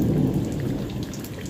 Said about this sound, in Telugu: వినిపిస్తున్నాయా ఉరుములు.